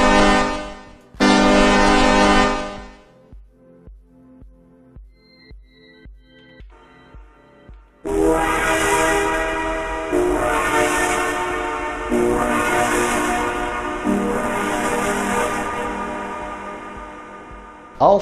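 A synthesized truck horn sample on a Yamaha EX5 synthesizer, FM-modulated by traffic noise: loud sustained horn-like tones start and stop abruptly, then give way to pulsing, layered bursts of modulated, buzzy sound.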